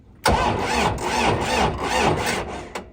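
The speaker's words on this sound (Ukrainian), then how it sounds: "Давайте запустимо трактор нейтрально і Давайте ще раз." A Kentavr 504FC mini tractor's engine cranks and catches, then runs with a loud, rough, pulsing chug for a couple of seconds before cutting off abruptly. Close and alone, with no voices.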